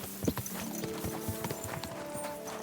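Horse hooves clip-clop in a steady riding rhythm in the medieval game Kingdom Come: Deliverance II, moderately close over a continuous ambient background bed, with no talk.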